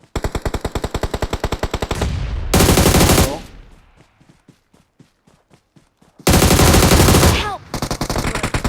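Loud automatic gunfire from the battle-royale game PUBG: long rapid bursts of shots with short pauses and a run of quieter single shots in between, heard alongside a brief spoken word.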